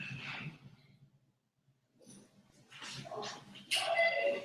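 A dog whimpers softly, pauses briefly, then yips and barks in short, close bursts that grow louder toward the end, with no voices.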